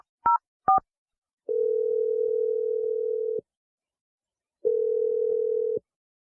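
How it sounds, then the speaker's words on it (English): Telephone dialing on a radio call-in segment: two short dual-tone key beeps, then a long steady ringback tone, a gap of silence, and a second shorter tone, clean and close with no voices. "Okay, I'm dialing it now."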